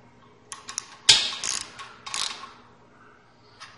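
Caliper bracket bolts being snugged down by hand in an automotive brake lab, heard as a few close metallic ratchet clicks and short mechanical rattles in a quiet room.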